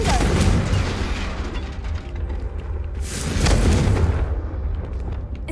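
The Confringo spell blast in Hogwarts Legacy, a booming explosive burst followed by rumbling debris, then a second surge of blast noise, loud and dense.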